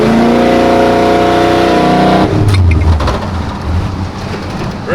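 A 1950 GMC pickup truck's engine, loud and close, holds a steady droning note before the gas pedal is stomped and it surges into a rough, roaring rev that fades slightly toward the end.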